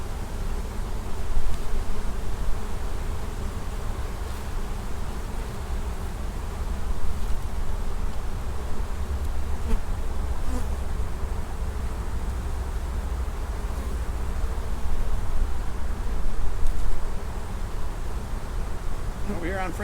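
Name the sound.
honey bees buzzing in an open beehive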